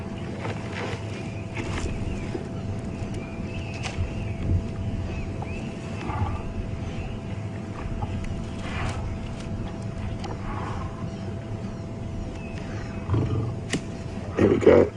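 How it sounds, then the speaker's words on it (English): A male lion on a safari drive gives a low, rumbling growl at a lioness, a deep, fairly distant sound over outdoor ambience and vehicle noise. "He just looked at her and gave that low."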